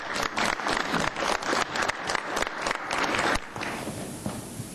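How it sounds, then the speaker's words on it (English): Scattered applause in a city council chamber, uneven bursts of clapping from a modest group over a few seconds, then stopping abruptly and leaving quiet room tone. "Once again, let's give them a big round of applause."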